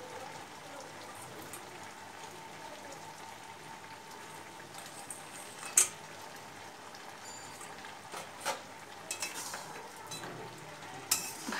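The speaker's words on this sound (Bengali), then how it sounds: "এবার অ্যাড করে দেব মাছের মাথা।" Fish heads added to simmering ash gourd in a home kitchen, a soft continuous sizzle with occasional scrapes and clinks of a utensil stirring the pan, faint and fairly steady.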